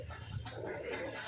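Pigeons cooing outdoors while the birds fly overhead, soft low murmuring coos over steady background hiss, fairly faint throughout.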